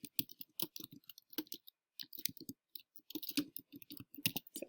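Rapid, irregular clicking of keys on a computer keyboard as a short description is typed, close and fairly quiet, with brief pauses between bursts.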